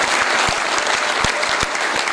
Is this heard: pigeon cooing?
no